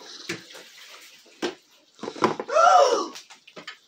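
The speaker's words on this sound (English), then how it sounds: "Did you dump water on the sink?" Water is dumped into a sink in a home kitchen, a short gurgling splash near the end, preceded by a few scattered knocks and small handling sounds.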